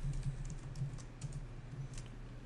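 Typing on a computer keyboard while entering PHP code in a CodeIgniter user controller, with soft, steady key clicks in a quiet room and no voices.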